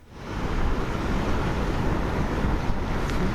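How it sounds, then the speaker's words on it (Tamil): Rough sea waves pound the shore at Chennai's Marina during Cyclone Fengal, a continuous loud roar of surf mixed with gusting wind noise, with no one talking. "ஃபெஞ்சல் புயல் எதிரொலியாக நேற்று நேற்றைய தினத்திலிருந்து கடல் சீற்றத்தோடு காணப்படுகிறது"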